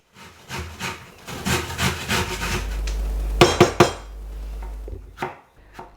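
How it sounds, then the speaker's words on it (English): Carrot and zucchini being grated by hand, a series of close, rasping scrapes in uneven strokes, with a few louder knocks and rubs toward the middle and end. "Grate carrot and zucchini."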